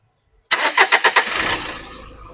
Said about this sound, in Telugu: ఒకసారి ఇంజన్ అనేది స్టార్ట్ చేసి చూపిస్తాను